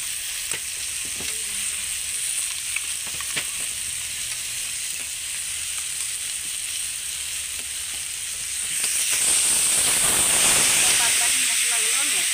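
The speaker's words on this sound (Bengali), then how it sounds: "প্রথমে বাটা মশলাগুলো আমি দিয়ে দিচ্ছি এখানে" Ground spice paste hits jackfruit already frying in a pan, producing a steady close sizzling hiss that swells louder and brighter toward the end, with faint scraping of stirring.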